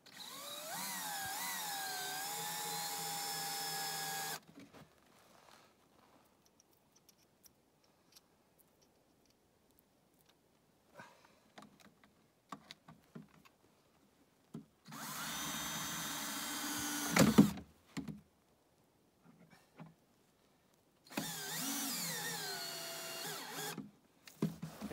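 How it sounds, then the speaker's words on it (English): A power drill runs in loud sustained bursts while driving screws into the back of a wooden trap box, with three whirring runs separated by quiet handling and a few light clicks and knocks. "I pre-drilled the back of my box so I can put a screw in to hold it in the back."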